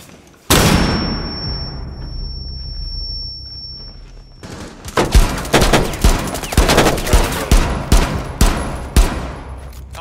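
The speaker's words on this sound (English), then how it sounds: "Using a flashbang!" A flashbang grenade in the game Rainbow Six Siege goes off with a sudden loud bang and a long high ringing tone, then a rapid run of sharp gunfire-like bursts and impacts follows, with no talk.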